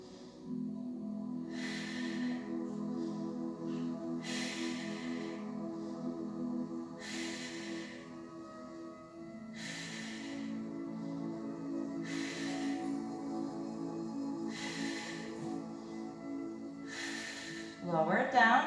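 During a knee-to-chest exercise, strong rhythmic breaths come every two to three seconds as short, airy bursts over a steady background of soft music.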